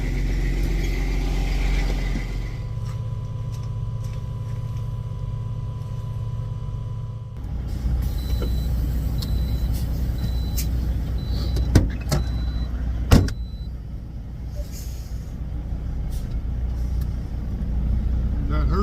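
A diesel truck engine cold-starts with a deep, loud idling rumble that shifts in tone partway through, over cab sounds and a few sharp clicks and knocks.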